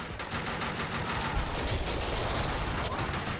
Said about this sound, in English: I sadly don't have a grenade for it, so I have to just shoot stuff